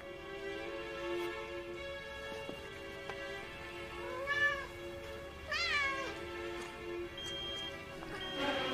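A cat meows several times in short, rising calls, moderately close against a quiet room with a faint steady hum; no one speaks.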